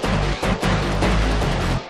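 Dense electronic music made in FL Studio: a mirrored bass arp, a bass knock, guitar and timpani play together in a loud, thick mix, with two short rhythmic gaps before a sharp cutoff at the end.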